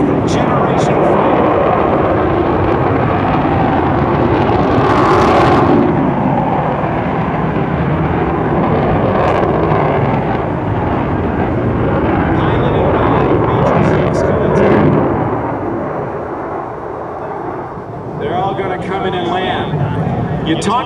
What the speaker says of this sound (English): And the F-22 Raptor, a fifth generation fighter.